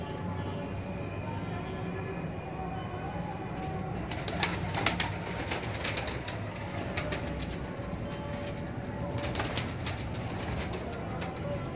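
Golden and Kasuri pigeons cooing in a loft, soft repeated coos amid other bird chatter and a steady background hum, with some brief clattering bursts midway.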